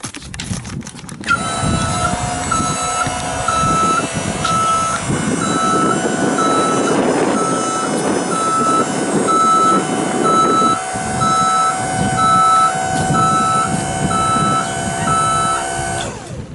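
A 1998 Grove SM2632E scissor lift with non-marking tires is raised from ground controls, its motion alarm beeping in a steady repeated pattern over a constant hydraulic pump whine, loud and close throughout with no talk.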